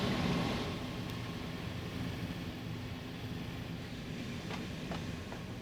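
A train rolls steadily through a Transport Fever 2 game world, a continuous mid-level rumble with faint rail clicks and no voices.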